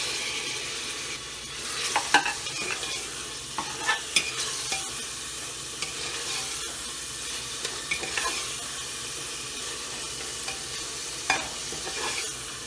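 Tomatoes frying in a little oil in a pan for aloo gobi, with cauliflower cooking alongside, a soft steady sizzle broken by periodic sharp stirring clinks and scrapes, no voices.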